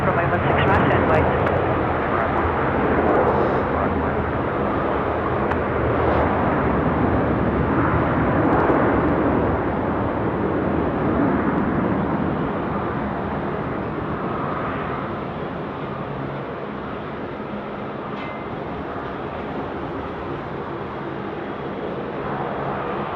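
Airbus A330 jet at Sydney Airport at night, a broad roaring engine rumble that holds steady and then eases slightly, with a voice talking over it.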